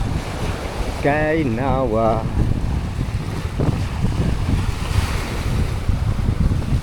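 Surf washes onto a beach on Sumbawa in a steady, wind-buffeted roar, with a voice speaking briefly near the start.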